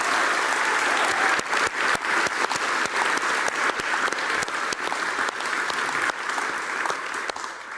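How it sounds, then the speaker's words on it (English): Sustained audience applause at an award ceremony fills the room, a dense wash of many hands clapping steadily at close range, with a few sharper individual claps standing out throughout. "if we could give another small round of applause for Anna and her team"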